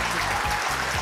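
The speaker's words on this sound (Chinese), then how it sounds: "这边直接鼓掌" Studio audience applause during a Taiwanese talk show segment, a steady burst of clapping filling the short moment without any voices.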